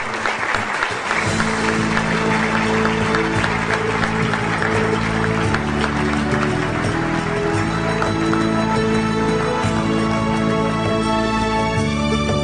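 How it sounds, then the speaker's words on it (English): Audience applause at a global climate summit as a panel of government decision makers walks on stage, a dense steady wash of clapping that runs the full length beneath loud stage music. "Let's give them a big round of applause,"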